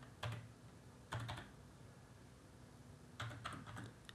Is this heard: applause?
no